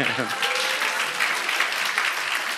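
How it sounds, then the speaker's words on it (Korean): Steady clapping from a church congregation during a Sunday service, with a voice speaking briefly over the start. "우리 박수 한번 보내주세요"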